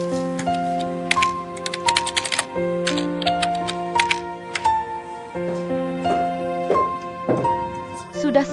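Rapid key clicks of typing patter on and off, loud and close, over a steady tonal background of music.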